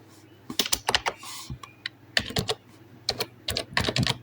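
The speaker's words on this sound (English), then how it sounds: "so I'll just type the location" Computer keyboard typing in quick irregular bursts with short pauses, close and clear, while entering a location into a harvest flyer being designed in Photoshop; no voice over it.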